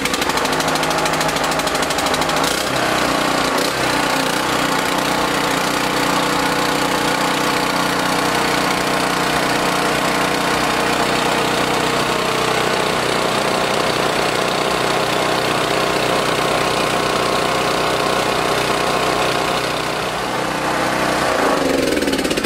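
Small gasoline engine running at idle, a loud, steady mechanical drone with rapid knocking pulses, close by and continuous throughout, with no talking.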